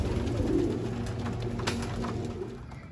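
Racing pigeons, white GPS birds resting on a loft, coo softly and repeatedly against a steady low outdoor background, with no talk over them.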